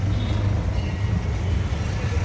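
Riding in an auto rickshaw on a busy Dombivli road brings a loud, constant rumble of engine and traffic with a rough, droning low end throughout.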